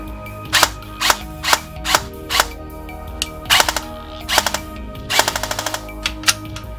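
An airsoft gun fitted with a new ASCU control unit fires in single sharp snaps and short bursts, ending with a rapid full-auto string, crisp and close against a quiet background.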